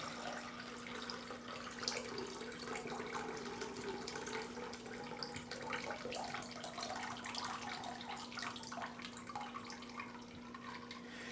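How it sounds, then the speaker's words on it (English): Apple cider vinegar poured through a paint strainer into a bowl, a continuous soft trickle and splash of liquid at close range over a steady low hum, fairly quiet. "Simply have a bowl and begin to pour your apple cider vinegar through the"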